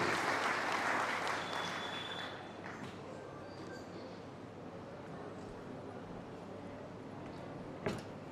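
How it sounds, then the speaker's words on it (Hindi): Applause from the audience at a Brahmin community talent award ceremony, strongest at the start and then tapering into a softer, steady patter, with a sharp knock near the end. "एक बार जोरदार तालियां प्रदीप जी शर्मा साहब के लिए"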